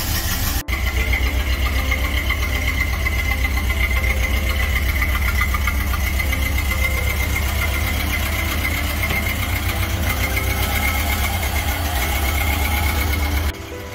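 A 1931 Ford Model A car engine runs steadily, a close, even low-pitched chugging rumble that holds at a constant level with no voices over it.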